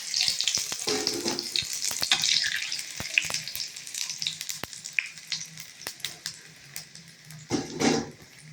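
Raw banana kola urundai balls crackle and sizzle in hot oil, a busy, close frying hiss full of irregular pops, with a louder burst of bubbling near the end.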